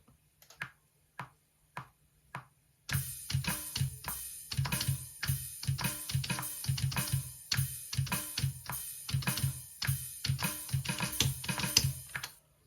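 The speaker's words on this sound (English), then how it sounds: "I'm just gonna literally play in this beat on my keyboard" A drum beat at 104 BPM is played live on a keyboard into GarageBand, a few sparse taps giving way to a steady pattern of kicks, snares and hi-hats, loud and close with slightly uneven timing.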